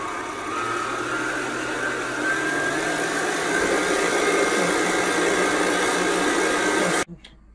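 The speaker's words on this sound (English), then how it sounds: "And I turn on the mixer." Electric mixer whipping cream in a kitchen, a continuous whirring motor drone that holds steady for about seven seconds and then cuts off abruptly.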